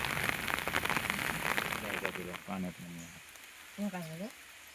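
Returning monsoon rain falls in the Konkan countryside near rice and turmeric fields, a steady close patter of drops on surfaces with a person speaking briefly over it.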